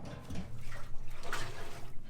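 Water trickling and splashing out of a welded metal fuel tank on a 350Z drift car during a leak test, a faint, steady watery patter close by with no talking.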